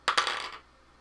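Dice tumbling and clattering across a table during a tabletop role-playing game, a quick sharp rattle of two or three hits that fades out within half a second.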